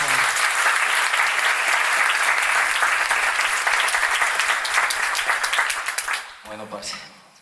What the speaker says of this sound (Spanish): Un aplauso acá chiquitico nuevamente para ellos, por favor.